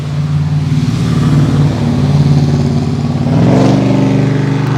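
Nissan R34 GT-R with a Tomei titanium exhaust accelerating on a wet road, loud close engine note rising and pulling through the revs with a raspy, steady drone and a further climb near the end.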